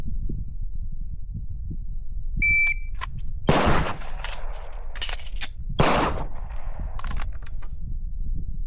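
Glock pistol firing on an outdoor range, with a magazine change between shots: sharp, loud broadband reports with a few smaller clicks and handling noises, separated by pauses, over steady background rumble.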